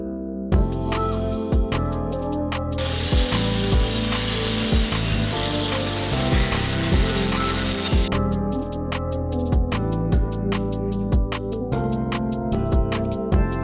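Curb rash is sanded off the wheels of a Mitsubishi Legnum VR4, with a harsh continuous abrasive hiss lasting several seconds amid repeated sharp mechanical clicks and a steady tonal background.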